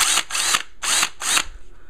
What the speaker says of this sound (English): it sounds just practically just like his drill